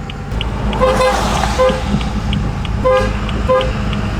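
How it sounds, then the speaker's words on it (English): Short, loud horn toots from a BMW M4 sound in two clusters, close by, honking on its own over a low rumble of traffic. "I don't know why it's still honking. It's honking out of nowhere."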